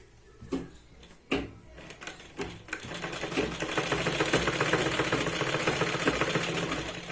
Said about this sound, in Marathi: पूर्ण याला जे आहे ते आपण कडेने आता एकदा शिलाई लावून घ्यायची